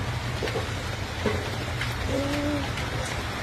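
A steady downpour of heavy rain over a bamboo grove, close and uniform hissing with intermittent drip accents and a brief tonal chirp, without any voices.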